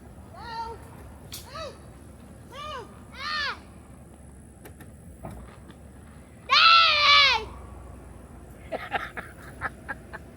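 Several goats bleating in short wavering calls, one loud drawn-out bleat in the middle, with quieter animal noises and faint background sounds between.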